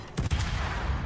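Ship turrets fire in the World of Warships game during a tier 10 battle, with a couple of close, heavy booms at the start that fade into a low rumbling tail.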